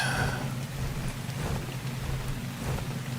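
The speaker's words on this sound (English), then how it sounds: "Rain, rain, rain." Steady rain pours down in the video game Ark Survival Ascended, a dense even hiss with a low rumbling undertone, continuous throughout with no voices.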